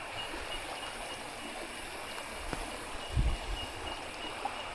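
Flowing water of Paddy's River stream, a soft continuous trickling rush outdoors at moderate distance, with a brief low thump partway through and no talking.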